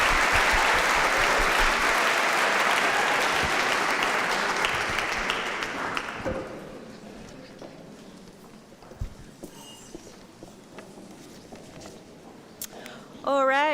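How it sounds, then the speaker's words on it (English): A graduation ceremony audience gives a big round of applause, dense clapping loud for about six seconds and then dwindling to scattered claps, followed by a voice speaking. "And a big round of applause"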